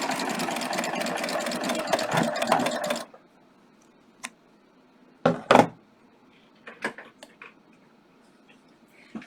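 A sewing machine fitted with a beading foot stitches beads in a fast, dense mechanical run for about three seconds, then falls quiet apart from a few scattered clicks and knocks.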